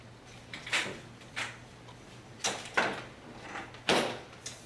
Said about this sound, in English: And I'm going to open your privacy curtain.